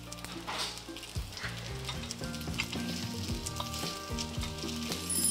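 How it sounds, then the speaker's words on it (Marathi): Sabudana appe fry in a pan with a steady, close sizzle and crackle, joined by occasional scraping and clinking as they are turned. "आता हे साबुदाण्याचे आप्पे यामध्ये ठेवून घ्यायचे आणि खालच्या बाजूने छान असं खरपूस फ्राय होईपर्यंत फ्राय करून घ्यायचं."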